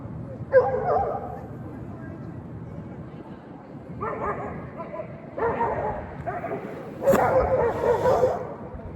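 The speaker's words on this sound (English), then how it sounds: "These dogs are about to bite each other's heads off." Dogs bark and snarl at each other in a fight, with bursts of yips and growls coming in uneven clusters, close and moderately loud, and the loudest flare-up near the end.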